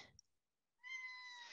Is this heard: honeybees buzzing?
no